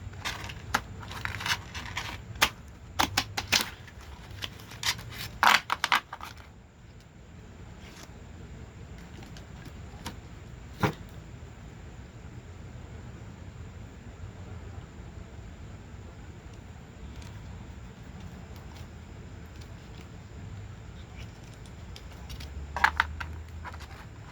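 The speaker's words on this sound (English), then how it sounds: "I have to shuffle them in little stacks." Cards being shuffled in small stacks by hand, with a quick series of crisp riffling clicks early on, then quieter faint handling, and another short riffle near the end. No one speaks.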